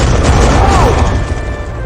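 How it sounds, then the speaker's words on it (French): A loud, dense in-game explosion rumbles through the whole burst with a sweeping whistle in the middle, holding steady before tapering slightly toward the end. "Allez, on va utiliser notre explosion."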